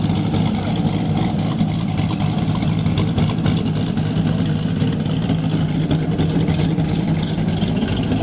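A race car's engine rumbles continuously, low and even, running close by with no talking over it.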